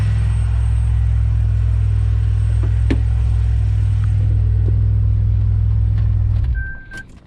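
A supercharged Pontiac Bonneville SSEi engine, after a vacuum leak repair, runs at a steady, loud, deep idle rumble with faint clicks before it drops off at the end.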